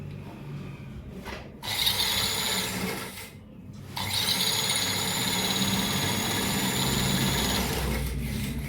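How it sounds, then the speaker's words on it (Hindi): An electric sewing machine runs in bursts, stitching a seam on a denim jeans pocket, with a steady mechanical whir that pauses briefly twice before running on. "एक सिलाई बूट की आपने यूं लगा दी है, साफ और फ्रेश।"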